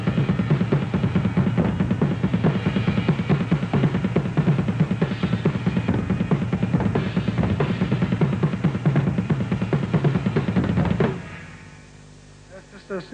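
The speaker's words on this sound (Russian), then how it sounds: "Просто переменная схема в бас-барабанах между ними." A fast alternating double bass drum pattern played on two kick drums, a dense continuous stream of rapid low thuds with cymbal wash above, driving for about eleven seconds before stopping abruptly into near silence.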